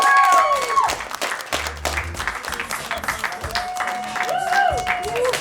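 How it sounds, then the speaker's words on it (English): A comedy club crowd at ThreeClubs claps and cheers for a departing comic, with steady loud applause mixed with whoops and whistles, and a few voices calling out over it. "Y'all give it up for Diya Shivlani"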